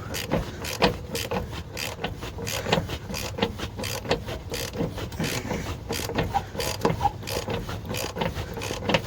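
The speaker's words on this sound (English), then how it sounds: "now that it's loose, now I can just take my bolts out" Bolts come out of the upper control arm on a 2001 Honda CR-V with a close, rapid series of ratcheting clicks and metallic mechanism sounds, repeating steadily throughout.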